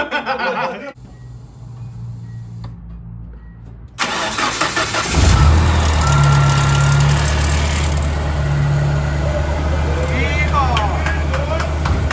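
A car engine freshly fitted with a new pulley and alternator cranks and catches after a few seconds, then settles into a loud, steady idle close by, with people talking before the start.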